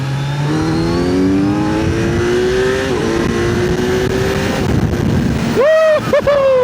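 A Kawasaki Z900 2025 motorcycle engine in sport mode revs up and accelerates hard, the pitch climbing steadily, then gear shifts and sharp revs near the end, loud and close.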